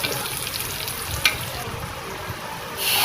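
Onion, garlic and kangkong stems sautéing in a pan, giving a steady, close sizzle with light scraping and a brief clatter partway through, growing a little louder near the end. No one speaks.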